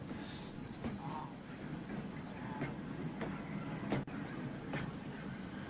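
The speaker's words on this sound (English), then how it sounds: "Oh, the trams are really loud though" Trams running through a city in the video game Archipelago, producing a continuous rolling rail rumble with squealing wheels, periodic clicks and clacks, and a sharp knock partway through.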